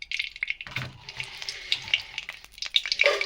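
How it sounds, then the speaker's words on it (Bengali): Whole dried chillies hit hot mustard oil in a wok and crackle with a soft, close, spattering sizzle. The sizzle rises in short bursts over a few seconds with no voices. "কড়ার মধ্যে প্রথমে আমি সর্ষে তেল দিয়ে দিচ্ছি, দিয়ে দেব গোটা শুকনো লঙ্কা"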